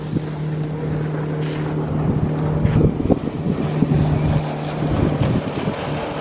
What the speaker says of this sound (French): On embarque sur un bateau.